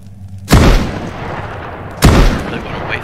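Two loud, sharp gunshots from the Mist Survival survival game ring out about a second and a half apart, each a close blast with a short decaying tail over a low steady background hum.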